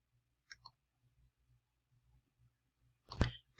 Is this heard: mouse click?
yes